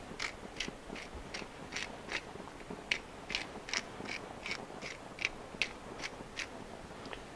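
A pepper mill grinding fresh coarse black pepper for a Tex-Mex dish cooked outdoors on a grill gives a series of crisp, rhythmic ratcheting crunches, about two per second, close and fairly quiet with no talking.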